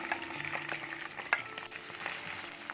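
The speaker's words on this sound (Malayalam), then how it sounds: "ശേഷം കറിവേപ്പിലയിട്ട് നന്നായി മൂത്തതിന് ശേഷം നമ്മൾ അരിഞ്ഞു വെച്ച് സവോള ഇട്ട് കൊടുക്കാം" Chopped onion frying in coconut oil with curry leaves for a Kerala-style parippu curry: a quiet, crackling sizzle with scattered pops and light utensil taps.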